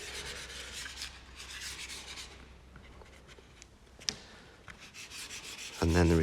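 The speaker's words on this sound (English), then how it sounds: "this sandpaper that I'm using eats through chalk." Sandpaper rubs against soft pastel chalk in quiet, close, continuous scratchy strokes with a faint hum underneath. A brief voice-like sound comes in at the very end.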